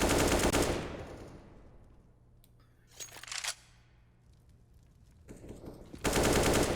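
Gunfire in a CS:GO match: a burst of rapid automatic fire at the start, a short sharp volley in the middle and another loud burst at the end, with quieter gaps between.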